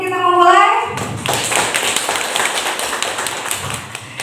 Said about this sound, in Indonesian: Tepuk tangan dulu dong sebelum kita memulai